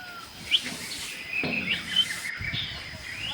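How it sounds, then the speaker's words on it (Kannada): At Ranganathittu bird sanctuary in Karnataka during the rainy season, faint scattered bird chirps and short calls rise over a steady insect buzz in the open air. "ಪಕ್ಷಿಗಳು ನೋಡಿ, ಇಲ್ಲಿ ಸುಮಾರು ಪಕ್ಷಿಗಳಿದೆ"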